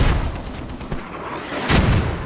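Mortar rounds in a video game battle on the Chora Valley map land as loud, heavy booms, one at the start and another near the end, with a rumbling tail between them.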